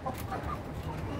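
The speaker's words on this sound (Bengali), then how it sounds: "এটা আমাদের অষ্টলাভ মোরগ মুরগির ভেরিয়েন্ট।" Australorp hens clucking softly at a moderate distance, a low run of murmured calls over a steady farmyard background, with no talking.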